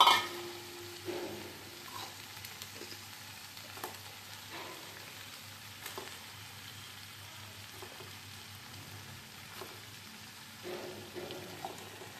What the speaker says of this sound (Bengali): ভালো করে মিক্সিং করব। চিকেনগুলো অ্যাড করে দেবো।